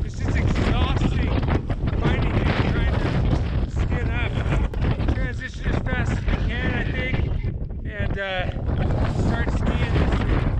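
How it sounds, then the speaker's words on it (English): Strong wind roars on the slopes of Mount St. Helens during a climb and ski descent of the volcano, a loud, steady broadband buffeting that fills the whole stretch, with voices seeming to come through the gusts. "Winds are insane."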